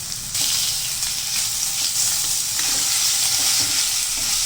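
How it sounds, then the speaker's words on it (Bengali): Small prawns frying with onion and ginger paste in a hot pan for a home-cooked mochar ghonto, a loud, dense, continuous sizzle that starts abruptly and keeps going with faint stirring scrapes. "চিংড়ি মাছটা এর সঙ্গে প্রায় ভাজা ভাজা হবে।"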